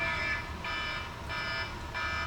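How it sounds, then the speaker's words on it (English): An electronic alarm goes off in repeated pulsing bursts of harsh buzzing beeps, steady and fairly loud, with no talking over it. "There's an alarm going off."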